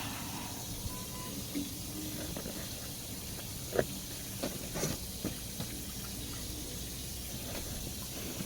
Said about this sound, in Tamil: எங்கே இருந்தோ தண்ணி வர சத்தம் கேட்குது இல்லைங்களா ஷவரில் தண்ணி வந்துட்டுருக்கு